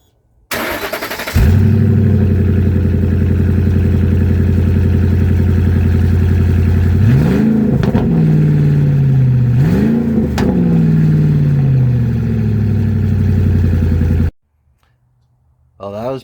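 Ford Super Duty truck engine with no muffler fired up and revved, a loud raw exhaust roar that idles rough with two sharp rising revs midway, then cuts off abruptly.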